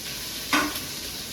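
Onions dropped into a hot pan with mustard seeds and fenugreek give a short burst of sizzling hiss over a steady background frying noise, then settle back quickly.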